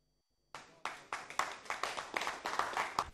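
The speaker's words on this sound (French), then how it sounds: "Des applaudissements pour saluer ce qui paraissait hier impossible, aujourd'hui possible" Applause at a ceremony attended by an industry minister, a dense burst of clapping starting abruptly after a brief silence and swelling steadily louder over a few seconds, with no talking.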